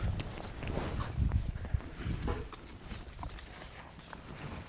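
Hooves of a horse being led for a bareback ride clip-clop at a slow walk on the ground, a steady uneven patter of soft thuds nearby under low background noise.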